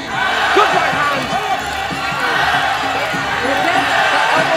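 Crowd noise fills a Muay Thai bout in Phuket between Sven Van Hoof of the Netherlands and Payak-Samui of Thailand during the second round: a steady loud roar of spectators with rising shouts and cheers, continuous throughout.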